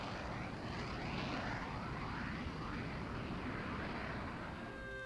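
A high-performance military aircraft gives off a steady, loud engine roar that holds evenly throughout, with no voices and no breaks.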